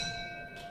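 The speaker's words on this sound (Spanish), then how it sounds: "Campana, arranca la pelea." Boxing ring bell signalling the start of a round in a super featherweight fight in Oncativo, a faint sustained metallic ring fading slowly under arena background noise.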